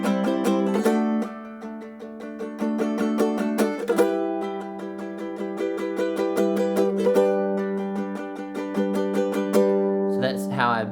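Ukulele strumming with all downstrokes builds up within each bar, moving from strong accents to quicker strums at double speed, bright and close with no voices.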